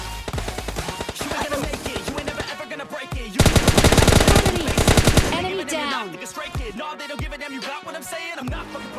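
Gunfire in the mobile game PUBG Lite, an S12K shotgun against an M4 rifle, comes as rapid loud bursts of automatic shots with a dense sustained volley in the middle.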